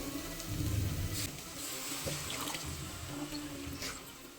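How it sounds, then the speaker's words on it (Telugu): Tamarind water poured into a pan of fried fish curry masala, a steady liquid splash and gurgle close by, loudest at the start and then settling into a softer trickle, with no talk. "ఇప్పుడు చింతపండు అయితే పోసుకుందాం"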